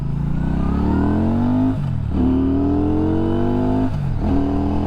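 A Benda motorcycle engine revs loudly and close, its pitch climbing steadily, then dropping briefly at each of two short-shifted gear changes before rising again.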